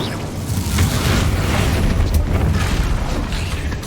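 An Incendio fire spell is cast in Hogwarts Legacy, giving a loud, sustained roaring burst of flame that fills the whole moment with a dense, rumbling whoosh.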